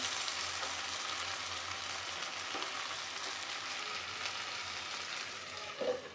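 Chicken pieces for restaurant-style chicken burra sizzling steadily in a pan, a constant quiet frying hiss with a soft clink near the end as they are turned.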